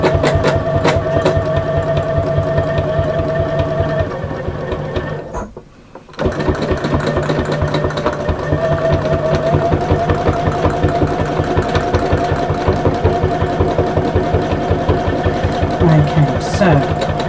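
Domestic sewing machine stitching lines across fabric for a wall hanging, running loud and close with a fast, steady mechanical hum and needle rattle. It stops briefly in the middle, then starts again and runs on.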